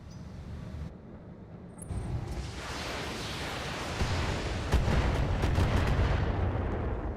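Missile impacts striking a battling mech in BattleTech with the BTA mod, a rumbling volley of booming hits that builds over several seconds into heavier, sharper blasts.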